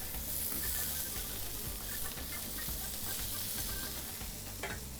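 Ground and whole spices sizzle and fry in a hot pan while being stirred steadily, a dense continuous crackle with scraping stir strokes, close and fairly loud, no voices.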